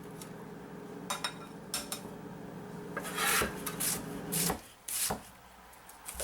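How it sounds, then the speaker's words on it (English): A pound of potatoes is peeled and cut into cubes for New England clam chowder, with close, rasping scrapes and knife taps on a board in irregular bursts. "we peel and cut a pound of potatoes into cubes"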